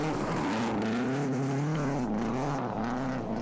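A Subaru Impreza WRC rally car at Rally Portugal pulls away under hard acceleration, its engine a loud, continuous buzzing drone that wavers in pitch as it revs, with no talk over it.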